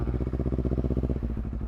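Honda CBR250R fitted with a Villan MV2 carbon forged full-system exhaust, revved lightly in a steady, throbbing idle-like rhythm with rapid even pulses, close and fairly loud, no talking.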